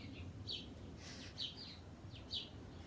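Birds chirping in a garden, a few faint, distant tweets spaced about a second apart over quiet background noise.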